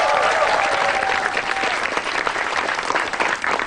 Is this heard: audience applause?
yes